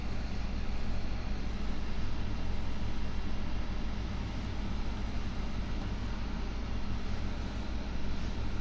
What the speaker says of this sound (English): that's the air conditioner running wide open